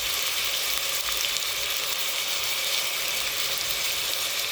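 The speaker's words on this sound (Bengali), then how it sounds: "এখন দিয়ে দেবো টমেটো কুচি, পরিমাণ মতন লবণ" Chopped tomato and salt sizzle steadily in a hot pan of oil while cooking biryani, a continuous loud frying hiss with no talk.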